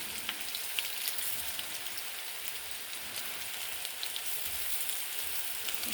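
Potatoes frying in hot oil in a pan for an alu mula dish, a steady, even crackling hiss that holds at a constant level throughout with no talking.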